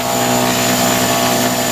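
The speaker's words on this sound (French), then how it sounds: "c'est un avion qui fait beaucoup de bruit" Loud, steady engine drone filling the space, a constant roar with a faint whining hum and no pauses.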